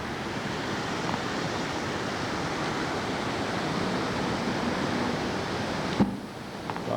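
Flooded Eel River roaring at high water where the South Fork meets the main stem in Humboldt County, a broad steady rushing wash with a brief thump near the end.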